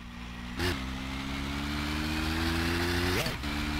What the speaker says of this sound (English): Riding a moped on my summer car.